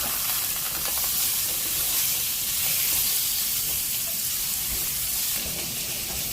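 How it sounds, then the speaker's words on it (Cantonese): Steady hissing sizzle of garlic and carrots stir-frying in a hot wok, continuous and fairly loud throughout with no voices. "將蒜蓉爆香後加入紅蘿蔔。 將佢炒勻"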